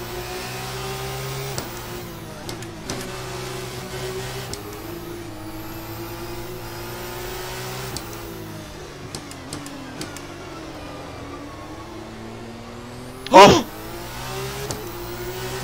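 F2 race car in Assetto Corsa, a high-pitched engine whine rising through the gears with shifts and steady revving, plus one sharp brief knock near the end.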